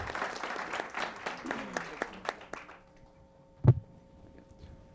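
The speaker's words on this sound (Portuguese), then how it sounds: "Eu queria pedir aplausos para os nossos participantes aqui." A small audience claps for panel participants at a data talk event, a brief scattered round of applause that thins out quickly, followed by a quiet room with one louder knock.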